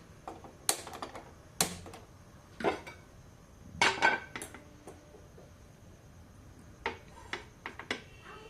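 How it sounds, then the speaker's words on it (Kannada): A pan is set on a kitchen stove for tempering green tomato chutney, giving a few faint, sharp metallic clinks and taps scattered through otherwise quiet room tone. "ಒಗ್ಗರಣೆಗೆ ಇವಾಗ ಪ್ಯಾನ್ ಇಟ್ಕೊಡೋಣ ಸ್ಟವ್ ಆನ್ ಮಾಡಿ"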